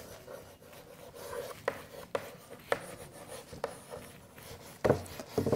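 A teacher writing on a classroom board, with scratchy strokes and sharp taps as letters are formed, close and moderately loud against a faint room background.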